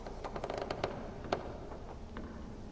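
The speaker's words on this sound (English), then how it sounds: "Can't you hear the freaking stairs creaking?" Wooden stairs creak in a haunted, death-filled place in The Witcher 3: Blood and Wine, a series of irregular groans and ticks over a low ambient drone, with no talking.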